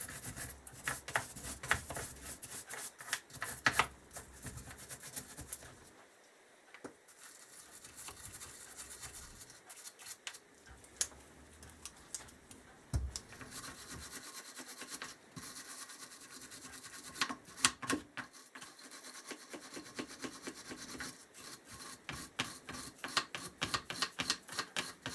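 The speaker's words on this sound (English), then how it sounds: "I've got a bit of soluble cleaner in here and literally just scrubbing round." Steady brisk bristle scrubbing of Kawasaki Z1000 J2 carburettor parts in soluble cleaner, close and continuous with rapid rasping strokes and brief pauses, no talk.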